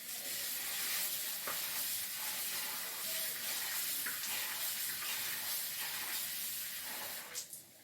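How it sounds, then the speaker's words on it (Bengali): Rice being washed in water in a home kitchen during hot weather, a continuous soft swishing and hissing wash with small splashes throughout and a brief clatter near the end. "চাল এই যে বের করেছি, ধোবো, ধুয়ে বসিয়ে দেবো।"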